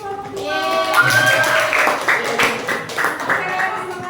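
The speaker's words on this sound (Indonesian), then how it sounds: "Kita beri tepuk tangan untuk kelompok dua." A classroom of students applauds group two, a brief burst of scattered, overlapping clapping with a teacher's voice and children's chatter running over it.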